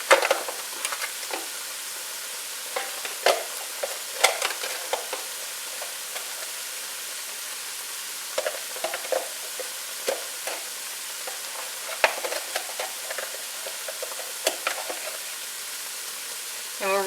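Vegetables sweating down in a pan for cheesy chicken spaghetti give a steady sizzle, with scattered clicks and scrapes of stirring throughout, close and moderately loud, with no talking.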